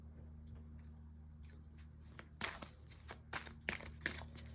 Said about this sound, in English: let me shuffle a bit